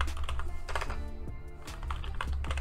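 Quick clicking keystrokes on a computer keyboard come in short, close bursts separated by brief pauses.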